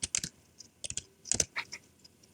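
Computer keyboard typing a name into an H1 tag while coding CSS, bursts of quick close key clicks in short clusters with small pauses, no voice.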